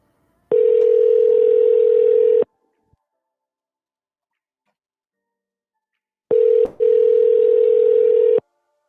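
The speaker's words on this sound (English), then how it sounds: "you got to answer the phone if you want to get through" Two long, steady telephone ring tones on an outgoing call that goes unanswered, each lasting about two seconds and separated by a long silent gap, clean and close with no talking.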